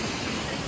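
The hidden waterfall at Jyunigataki in Komatsu City roars as a dense, steady wash of falling water, loud and close, with no pauses.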